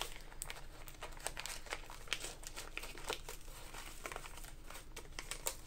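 Firm Christmas wrapping paper crinkled and crumpled while a gift from a holiday swap parcel is unwrapped: steady close-up rustling with dense sharp crackles and the occasional soft tear, no speech.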